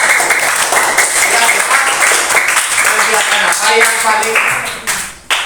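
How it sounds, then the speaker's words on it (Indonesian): Classroom applause during a teaching practice lesson, loud, close clapping from students that continues for several seconds, with voices talking and calling out over it. "Tepuk tangan dulu."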